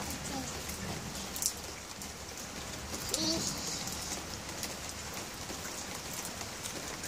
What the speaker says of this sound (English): do you know it's raining outside?